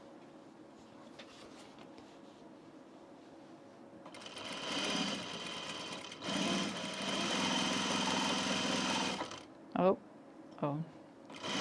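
A home sewing machine stitches a princess seam on an unlined blazer, running in two sustained bursts of fast whirring with pauses between, followed by short clicks; a voice makes a brief exclamation.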